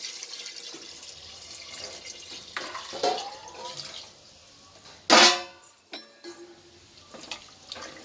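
Six glasses of water splash into a cooking pot for tomato biryani in brief, uneven pours with clinks and a sharper gush midway, fairly close and moderately loud.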